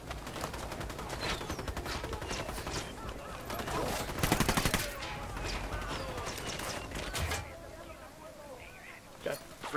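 Ghost Recon Wildlands gunfire rattles off in rapid, uneven bursts of close shots. It peaks in a dense volley midway before easing off, and people talk over the shooting.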